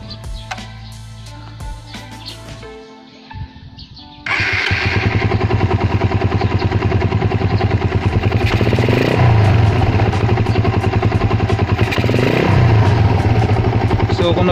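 A Raider 150 motorcycle fitted with a 28mm flat slide carburetor fires up after a few quiet clicks and settles into a loud, close, steady running note, with repeated throttle blips that swell and fall.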